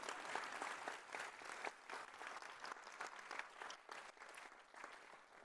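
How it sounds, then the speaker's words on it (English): Conference audience applauding steadily throughout, a dense, sustained wash of many hands clapping at moderate distance with no speech over it. "I thought we'd give it a clap."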